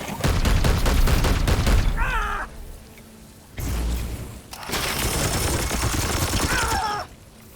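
Rapid volleys of gunfire crackle in Warhammer 40k: Chaos Gate Daemonhunters, two loud sustained bursts of rattling shots separated by brief quiet gaps, with shell and mechanical clatter mixed in.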